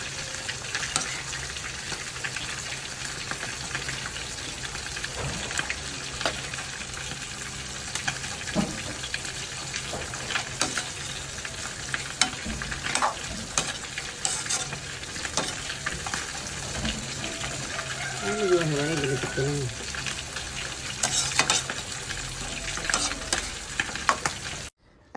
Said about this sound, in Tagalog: Haluin lang pong mabuti para sumama siya dun sa gulay.